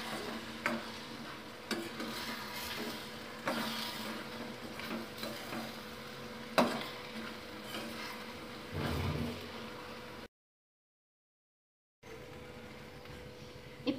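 Raw mango jam bubbles and sizzles faintly in a pan over high flame while a spoon scrapes and stirs it in irregular strokes, with a brief silent gap near the end.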